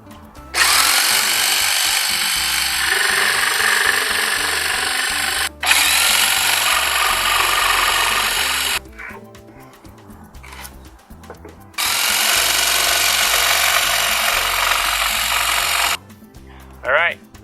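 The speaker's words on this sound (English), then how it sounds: "This is a blade that will cut upward, so that should help limit the amount of spalding we get on the white primed surface" A jigsaw with an upward-cutting blade rips through white primed beadboard in three long, loud buzzing bursts separated by short pauses, close up.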